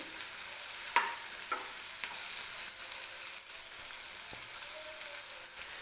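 Chopped tomatoes fry in a pan for a cabbage curry, a steady close sizzle with a few brief stirring scrapes and clinks, no voices.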